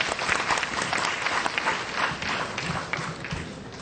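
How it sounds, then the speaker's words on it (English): An audience applauds after a poetry presentation at an event, a dense continuous patter of many hands clapping, moderately distant and steady for several seconds with no speech over it. "let's give our applause to Ms. Moira Garland and Robin Chang"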